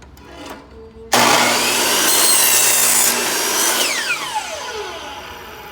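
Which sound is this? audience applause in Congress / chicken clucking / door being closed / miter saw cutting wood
miter saw cutting wood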